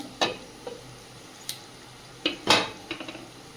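A lid lifted off a cooking pot of simmering fish, with several sharp metallic clinks and taps against the rim over a soft background bubbling.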